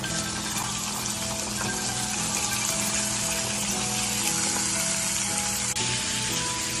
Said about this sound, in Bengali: এরপর আলুগুলোকে আগে ফ্রাই করে নেব।